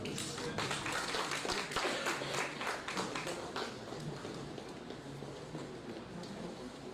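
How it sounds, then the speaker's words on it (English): Conference audience applauding, with a dense, steady patter of many hands clapping that fills the room, strongest at first and easing slightly toward the end. "Please give a round of applause, everyone."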